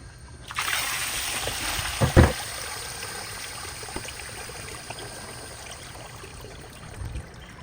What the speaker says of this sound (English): Water is going to come pouring out.